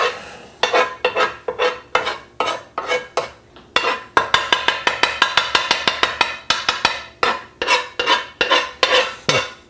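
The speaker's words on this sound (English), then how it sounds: "This pan's hot enough that these are now cooked eggs." Eggs are stirred in a hot pan with a utensil scraping and clinking against the metal in quick, rhythmic strokes, first in scattered bursts and then a fast run of regular scrapes, close and fairly loud.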